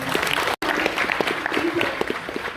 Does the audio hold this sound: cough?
no